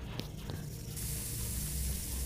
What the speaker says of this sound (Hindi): ये देखो इसने स्प्रे मारा और इसे ये कुछ निकल के आ गया।